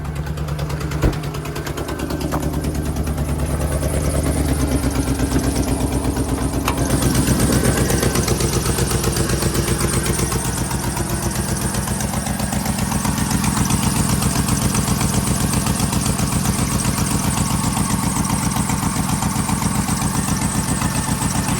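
A Honda Civic Type R engine with a blown head gasket idles steadily, its tone slightly uneven from a misfire, sounding close and continuous throughout with no talking.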